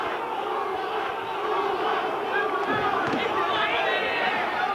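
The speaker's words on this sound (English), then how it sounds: "chanting Puma, Puma" A dense boxing arena crowd roars and chants in a steady, rhythmic mass of voices during a title fight, loud and continuous throughout.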